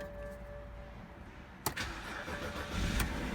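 A 2008 BMW 328i (E92) cranks and fires after a Bosch starter replacement, following a quiet idle-like hum with a sharp catch, then a rising engine rumble, close and alone.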